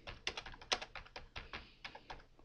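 Typing on a computer keyboard while setting up hyperlinks and macros, a dozen or so crisp, close key clicks in an uneven rhythm with brief pauses, no talking.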